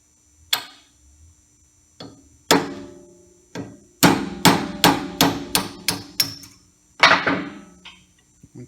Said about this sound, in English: There's a pin that holds it in. You can use a 1/8 inch punch